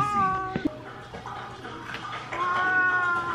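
A cat meows twice, a drawn-out complaining cry near the start and another toward the end, close, with faint room noise.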